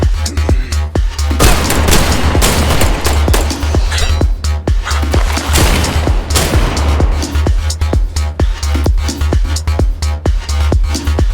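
Shotgun fire and other gunfire from the video game I Am Your Beast, loud and constant, with dense overlapping blasts and booms throughout and no clear pauses.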